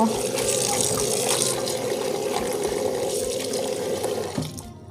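Water sloshes and splashes steadily as large green mustard greens are rinsed in a final batch of wash water, close up, with a voice talking faintly underneath.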